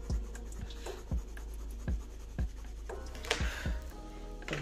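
Oil-based colored pencils stroking across paper in an adult coloring book, a repeated rhythmic scratch with regular strokes, close and fairly loud, with no talking.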